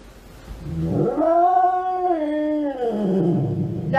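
A cat lets out one long, loud, eerie howl that rises, wavers and falls over several seconds, close and alone with no talking.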